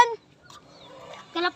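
A chicken clucks briefly at the start and again at the end, close by, with quiet sounds in between.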